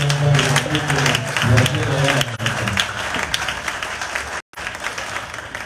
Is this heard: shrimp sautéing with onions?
no